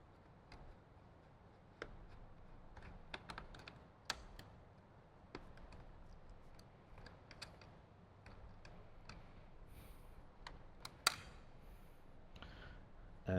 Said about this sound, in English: Now we'll remove this side, starting with the Torx.